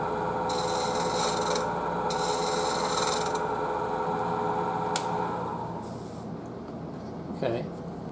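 Bowl gouge cutting a walnut bowl on a wood lathe, a steady, close rasping hiss with bursts of brighter scraping as the tool bites, easing off near the end, with talk over it.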